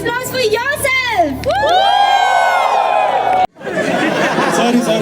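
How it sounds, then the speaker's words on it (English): A crowd at a Stranger Things fan event in Mumbai cheers and whoops loudly after voices shout. After a sudden cut, a dense, rowdy burst of cheering and chatter follows. "Can we have a huge round of applause for yourself?"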